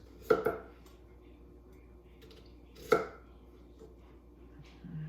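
Knife chopping through potatoes on a cutting board, two sharp, distinct cuts about two and a half seconds apart in a quiet kitchen, with a faint third knock near the end.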